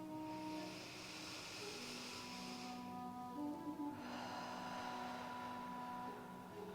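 A person breathing deeply during gentle yoga, a faint airy inhale followed by a long, soft exhale, quiet and close.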